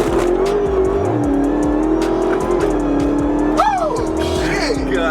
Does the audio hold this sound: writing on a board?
no